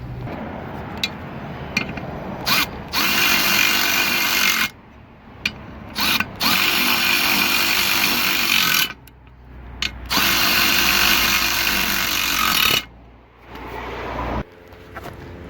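Power tool driving bolts into new ball joint hardware on a VW Jetta, several loud bursts of drill whir and ratcheting separated by short pauses, close and dominant.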